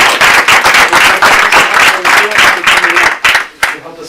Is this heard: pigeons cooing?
no